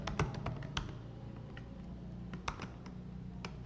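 Code being typed on a computer keyboard, with irregular individual key clicks and short bursts of keystrokes close up against a quiet background.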